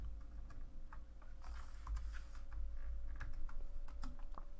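Steady, close computer keyboard typing while someone works in an Autodesk Inventor CAD tutorial, with rapid clicks and occasional louder key presses over a low hum.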